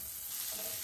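Butter sizzling and frying in a hot pan on a kitchen stove, a steady hissing crackle that holds close and even through the whole short moment.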